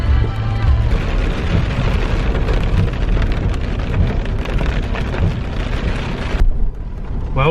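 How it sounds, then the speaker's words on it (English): Heavy rain pours steadily during a thunderstorm on a dirt road near Ronda in southern Spain, a dense continuous roar with low rumbling underneath, close and loud, easing slightly near the end. "The rain's coming down and there's lots of lightning and some really loud thunder."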